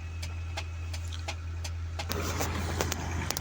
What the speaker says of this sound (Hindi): ये एक्सीवेटर जो है वो मतलब सुलगते हिस्से को हटा रही है